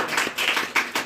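Students clapping in a classroom quiz event for Constitution Day, a short burst of several uneven hand claps, close and moderately loud, with no talking over them.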